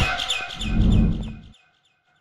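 In Garten of Banban 6, a bird chirps in a quick series of bright, close tweets that fade out after a second and a half.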